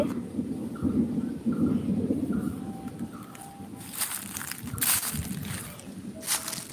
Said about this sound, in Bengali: আকাশের কি জোরে জোরে গর্জন দিচ্ছে আর কি মেঘ ডাকছে